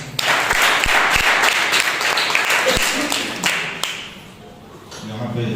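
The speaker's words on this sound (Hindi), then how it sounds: "आइए उस जिंदा और सच्चे परमेश्वर के लिए जोरदार तालियां हो जाए।" Church congregation applauding during a Sunday service, a dense spell of clapping with a few sharp thumps that tapers toward the end, with a voice talking over it.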